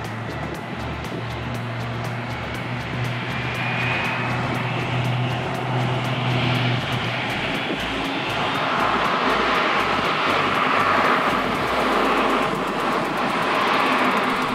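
A Sichuan Airlines Airbus A350 sits at Prague airport during pushback, its engines and ground equipment making a loud, steady roar and whine with a low rhythmic throb throughout.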